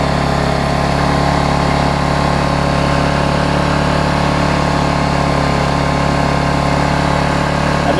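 A Vulcan 18-inch lawn mower engine with a bigger muffler runs steadily after being restarted, a constant, even idle drone with no speech over it.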